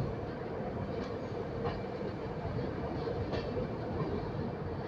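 Shatabdi Express No. 12025 running into platform 3 at a station, a steady loud rumble of the moving train with faint wheel clatter throughout, no voices.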